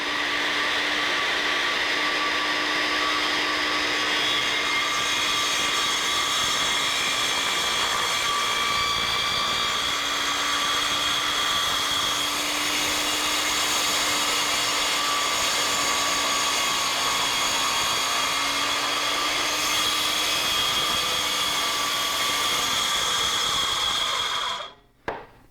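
Power saw spinning its blade at full RPM, a loud steady high whine held for about twenty-five seconds with slight pitch dips as the blade is lowered into the cut, then spinning down abruptly at the end.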